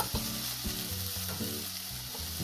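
Vegetables sizzle and fry in a pan with taco and fajita seasoning, a steady loud crackling hiss broken by stirring scrapes, close up and with no voices.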